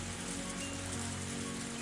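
Steady rain falls at night in the Higurashi video game, a constant dense hiss of drops on surfaces, even and unbroken throughout with no voices.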